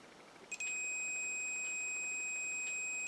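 A multimeter in continuity mode beeps as its probes touch during a 210-size quadcopter build, a steady high-pitched tone sounding close and loud for about two and a half seconds, then cutting off.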